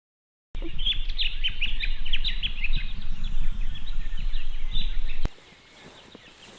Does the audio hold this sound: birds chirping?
yes